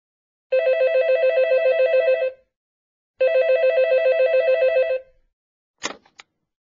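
Telephone ringing in a Korean listening test recording, two clean trilling ring bursts with a pause between, loud and alone in silence, followed by a brief click as if the receiver is lifted.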